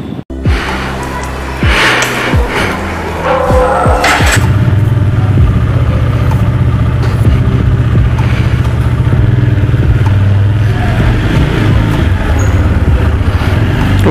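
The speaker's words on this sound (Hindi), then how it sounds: "तो फिर चलो बाइक पे मिलते हैं।" A motorcycle engine starts and then runs steadily as the bike rides along, a loud continuous mid-pitched drone close by, with brief knocks and rattles early on.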